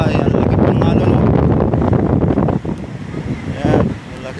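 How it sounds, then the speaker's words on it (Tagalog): Strong typhoon wind buffets the microphone while big waves surge and crash during Typhoon Uwan, a dense, loud roar that dips briefly midway and swells again. "Ang laki pong alon, oh."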